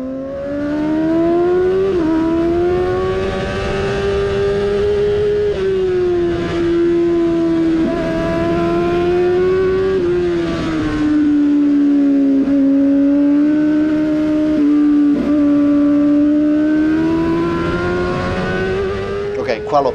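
A Yamaha R7 racing motorcycle engine roars steadily during a race, pitch climbing and dipping as it accelerates and shifts, loud and close with wind rush.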